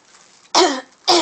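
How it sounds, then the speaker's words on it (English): Two loud, rough throat clearings from a person recovering a hoarse voice, close to the mic, the second one following quickly after the first. "as you can tell, since I'm clearing my throat"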